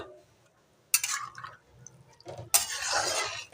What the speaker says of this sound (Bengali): আমি এখানে গরম জলটা দিয়ে দিচ্ছি